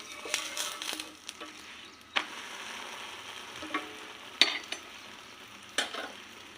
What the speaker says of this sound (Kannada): ಇವಾಗ ಈ ಹೋಳಿಗೆನ ಒಣಸಿ ಹಾಕ್ಕೊಳ್ಳೋಣ.